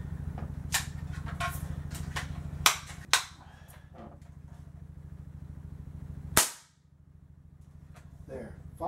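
Airgun shots fired through a chronograph: three sharp cracks, near and fairly loud, spaced a few seconds apart over a steady low hum, with a faint voice in between.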